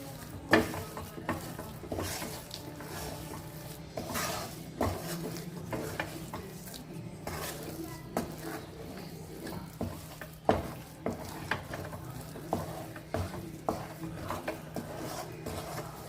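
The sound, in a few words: stirring moong dal halva with jaggery in a pan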